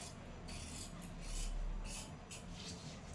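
Scissors cut through blouse fabric along marked lines, starting at the front neck, giving a steady soft rasping and rubbing with small rhythmic snips, fairly quiet and close, with no talking.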